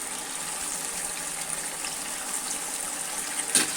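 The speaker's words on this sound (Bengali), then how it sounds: "কুমড়োগুলো সিদ্ধ হওয়ার জন্য সামান্য পরিমাণে জল দিয়ে দিব।" Water poured into a pan over pieces of ash gourd for a fish curry, a soft continuous splashing gush at moderate level, with a brief sharper clatter near the end.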